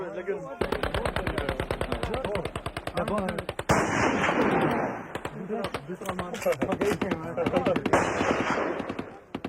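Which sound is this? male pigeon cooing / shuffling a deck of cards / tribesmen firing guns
tribesmen firing guns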